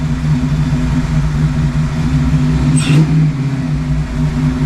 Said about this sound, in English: That intake makes a lot of noise when you snap it.